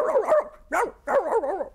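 A man imitates a dog with a vocal performance of barking, giving a few warbling yelps and woofs in quick succession, close and clear.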